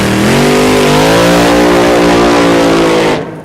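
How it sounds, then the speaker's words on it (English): A race car engine revs hard and loud, its rising harmonic whine climbing steadily then holding high before cutting off near the end, heard close and alone. "start your engines, and put the pedal to the metal"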